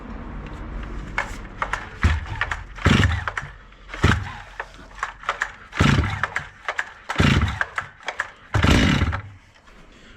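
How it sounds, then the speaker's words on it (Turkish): A Stihl MS 250 chainsaw is started with repeated pull-cord yanks, each giving a short rasping burst of engine noise separated by pauses, close by and loud. "Şimdi motoru çalıştıracağız."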